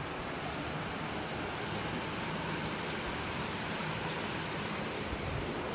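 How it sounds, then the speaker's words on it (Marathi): Steady rain falls outside, a dense, even hiss that never lets up, with no voices. "आता बाहेर मस्त पाऊस पडतोय"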